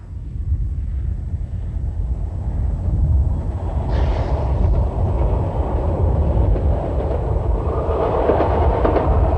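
Diesel train on a southern Italian railway line between Bari, Altamura, Gravina and Potenza, a loud steady rumble of the engine with rolling wheel clatter on the rails, close by and continuous, with no speech.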